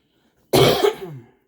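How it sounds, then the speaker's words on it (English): One sharp, harsh cough close to the mic, bursting out after silence and trailing off into a rough throaty rasp. "I'm still fighting a bit of a cough."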